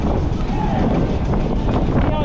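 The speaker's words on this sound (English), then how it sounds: "That wind wasn't blowing like this. Way too windy." Strong wind roars steadily across the microphone in Curaçao, buffeting continuously with a rough low rumble, and faint voices are buried underneath.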